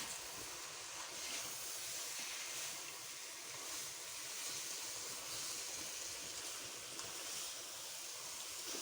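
Hot tempering (baghar) sizzles in a pan of carrot halwa, a steady bright hiss like frying oil that holds evenly throughout at moderate volume, with no voices.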